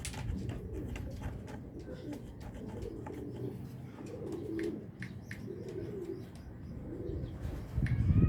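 Soft, low racing pigeon cooing repeats steadily, with scattered chirps and light tapping sounds around it.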